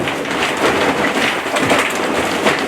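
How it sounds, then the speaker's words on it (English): Steady rain pours down outdoors in northern Michigan in a continuous hiss, with soft patter on surfaces and no voices. "it's another rainy day here in northern Michigan"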